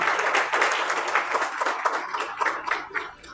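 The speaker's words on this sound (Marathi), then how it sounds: "एकदा जोरदार टाळ्या" An audience claps together at a book launch for a book on ethical hacking and cyber security: dense, steady applause lasting a few seconds that thins out and softens toward the end.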